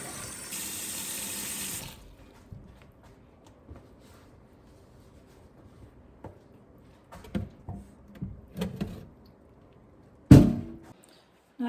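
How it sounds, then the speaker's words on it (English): A kitchen tap runs briefly while organic mushrooms are washed, then cuts off, followed by scattered small knocks and clatters at the sink and one sharp louder bump near the end. "So I am glad that we are washing these"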